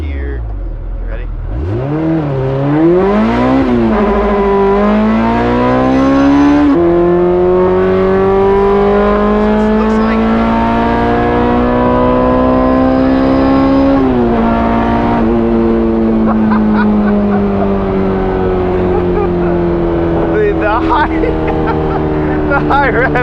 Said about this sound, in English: the high revving in this is insane